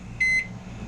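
A 900 watt microwave oven hums steadily on high while a single loud electronic beep sounds for about a fifth of a second.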